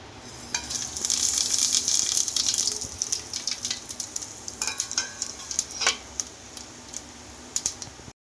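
Whole spices (fennel, cardamom, cloves, cinnamon, bay leaf) hitting hot oil for kuska, a bright crackling sizzle that flares loudly at first then settles into sputtering pops and stirring clinks, close up.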